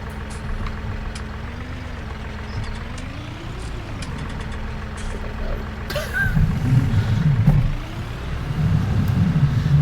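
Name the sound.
tractor engine in a video game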